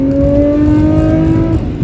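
A Nissan Skyline R34 GT-R engine revs hard under acceleration, its pitch climbing steadily through the gear, loud and close from inside the car with no talk.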